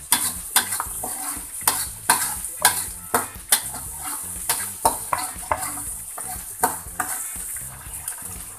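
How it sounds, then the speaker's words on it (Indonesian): Ground coriander, cumin and nutmeg sautéing in a pan, with a steady sizzle under repeated scraping stir strokes of a utensil against the pan, close and fairly loud. "Lalu ini ketumbar sama jinten dan pala sudah disangrai dan dihaluskan, masukkan juga, ikut ditumis."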